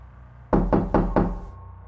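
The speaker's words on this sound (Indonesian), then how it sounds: "ketukan itu kembali terdengar lagi" Four firm knocks on the door of a village house, loud and close in a quick, even sequence, followed by a quiet tail with no voices.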